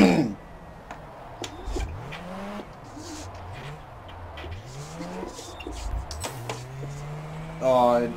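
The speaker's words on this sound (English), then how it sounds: "The motor sounds really good. The blow-off valve is amazing." A drift car engine in the rFactor racing game revs and shifts through rising and falling pitch sweeps with quick hissing bursts like a blow-off valve, while a person talks over it at moderate loudness.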